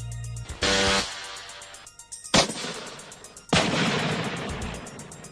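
Metal Storm electronic weapon system fires in several abrupt, very dense bursts, each a loud roaring blast of near-continuous rounds, with brief gaps and echoing decay between them.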